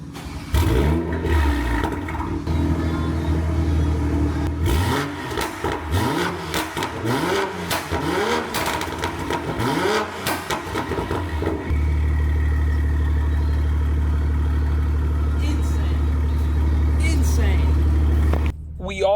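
A BMW M340i fitted with an aftermarket AliExpress Valvetronic exhaust revs repeatedly in sharp, loud bursts, then settles into a steady, rumbling idle.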